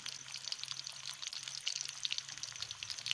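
Beef shami kebabs frying gently on low heat, a soft, steady crackle and sizzle of oil with small pops, quiet and close, with no talking.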